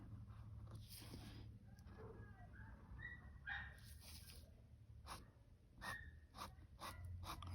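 Dogs bark outdoors in scattered, mid-distance bursts, with faint children's voices and breathing noise close by over a steady low background hum.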